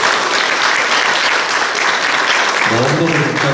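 Church congregation clapping together at a Korean Presbyterian Mother's Day service, steady dense applause filling the room for several seconds, with a voice starting to speak near the end.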